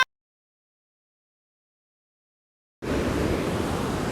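Loud ocean surf washing onto the shore fills the last stretch as a steady roar, coming in abruptly after near silence.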